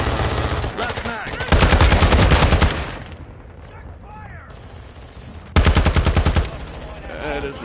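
Automatic rifle fire in Modern Warfare 2 comes in two loud rapid bursts of close shots, separated by a quieter stretch of scattered game sounds and faint voices.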